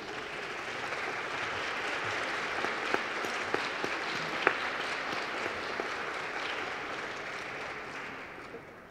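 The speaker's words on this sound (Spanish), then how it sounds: "les pido un gran aplauso con nuestro reconocimiento para todas ustedes" A crowd at a Mexican event on gender equality gives sustained, even applause for honored women, a broad steady wash of many hands with a few sharper individual claps, no voices.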